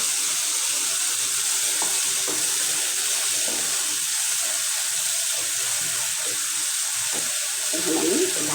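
A small splash of water hits a hot pan of frying shrimp and taro stolons, setting off a steady, loud hiss and sizzle that runs unbroken throughout.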